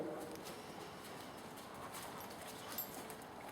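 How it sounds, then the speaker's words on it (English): Horse cantering during an outdoor polo lesson, a steady, quiet patter of hooves on turf under a broad wash of open-air background noise. "Get a nice comfortable canter, get the horse relaxed"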